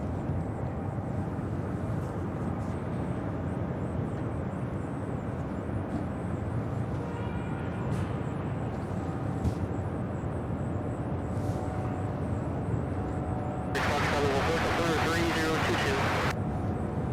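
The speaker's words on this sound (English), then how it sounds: "All right, here she comes. Here's that MD-11." A McDonnell Douglas MD-11 approaching at Louisville's airport makes a low, broad engine rumble that stays fairly faint and steady, with a brief burst of other noise near the end.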